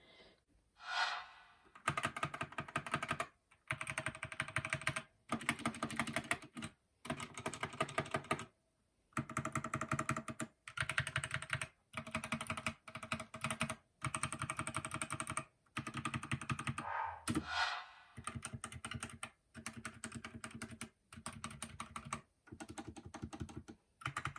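Close, steady typing on a GK61v2 mechanical keyboard fitted with small rubber bands on the left-side keycaps, rapid clustered keystrokes in bursts separated by short pauses, with no talking.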